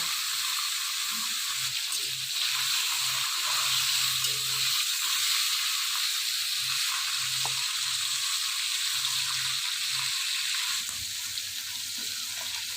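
A hilsa fish head, marinated in salt and turmeric, frying in hot oil in a pan, giving off a steady, close hiss and sizzle with faint occasional stirring and clinks underneath.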